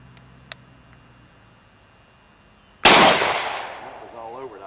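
A single loud, close shotgun blast at a clay skeet target cracks out after a quiet pause, then rings and decays over about two seconds, with a faint click beforehand.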